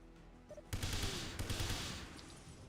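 AK rifle fire in 007: Everything or Nothing, a burst of loud close shots starting abruptly after a quiet moment, a brief pause, then a second burst that trails off into echoing decay.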